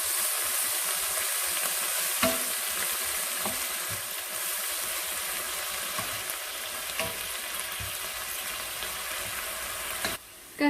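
Soy sauce and water hit a hot pan, bursting into a loud, sustained sizzle and crackle with scattered pops and stirring sounds, continuing for about ten seconds before a brief dip.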